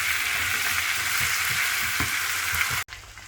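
Potatoes hiss and crackle in a frying pan for an aloo curry, with soft stirring knocks under the steady sizzle until it cuts off abruptly near the end.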